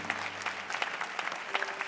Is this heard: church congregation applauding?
yes